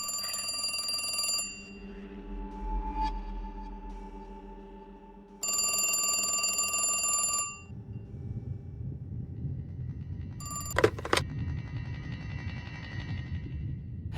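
A telephone rings in the video game The Cat Lady, two long bursts of loud ringing separated by a pause, then a brief clatter as if the receiver is picked up, with low hiss and background ambience.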